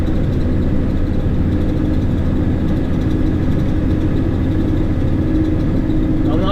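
A CAT C11 diesel truck engine hauling 15 tons gathers speed with a constant, loud, deep drone heard from inside the cab, the pitch holding nearly level, with no talk.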